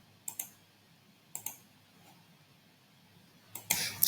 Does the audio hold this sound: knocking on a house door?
no